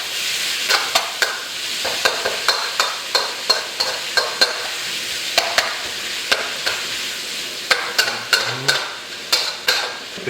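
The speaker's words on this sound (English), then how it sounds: "I'm going to turn down the heat just a little bit while we render this bacon down." Bacon rendering in a hot pan over lowered heat for breakfast fried rice, a steady crackling sizzle broken by frequent sharp scrapes and clinks of stirring, close and moderately loud, with no talking.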